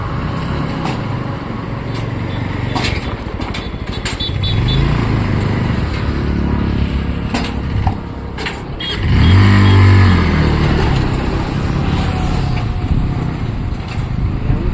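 A two-wheeler bike trolley food cart with a fabricated steel body runs its engine steadily and fairly loud throughout, with a brief dip and then a heavier surge midway, and no talk over it.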